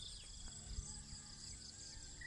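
Crickets chirp in a garden, a faint, steady, high-pitched trill that runs continuously without a break.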